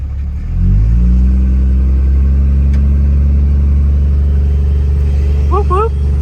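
A stick-shift turbocharged Ford Mustang rumbles loudly at close range, its engine note rising as it revs and then holding a steady deep idle-like drone.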